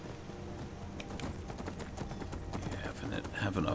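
Horse hooves clip-clop in quick, regular beats in the Skyrim video game, close and fairly loud, growing busier toward the end with a voice speaking over them.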